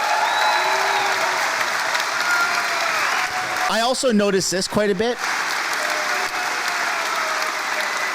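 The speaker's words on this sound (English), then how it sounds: "It was a roaring crowd of support." Crowd applauding Pierre Poilievre's speech in a parliamentary chamber, a steady wash of clapping throughout, with someone briefly talking over it near the middle.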